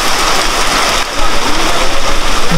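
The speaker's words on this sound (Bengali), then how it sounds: "মানে মুষলধারে বৃষ্টি হচ্ছে এখানে" A heavy monsoon downpour hitting nearby surfaces, a dense, loud, unbroken roar of rain that fills the whole clip.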